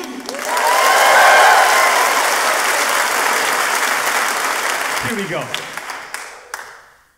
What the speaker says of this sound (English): Clap for you. Clap for you.